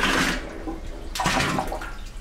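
Water pours and sloshes into a pickle bath of salt and formic acid for tanning an alligator skin, a loud close gushing splash that surges, eases, then swells again in bursts.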